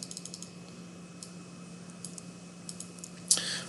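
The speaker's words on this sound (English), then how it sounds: "But I'm typing" Faint, sparse key clicks in a quiet room with a steady low hum, ending in a slightly louder clatter.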